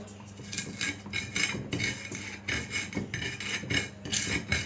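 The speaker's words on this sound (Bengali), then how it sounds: "এই পিষাচ্ছি বাটনার মধ্যে করলে ভর্তাটা খেতে মজা লাগে" Roasted mango mash seasoned with salt is ground in a clay mortar, giving repeated rough scraping and knocking strokes in an uneven steady rhythm, close and fairly loud, with no talking.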